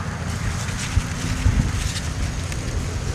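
Gusty wind buffets the microphone outdoors beside a garden corn patch, a low rumbling whoosh with a couple of stronger thumps and no speech.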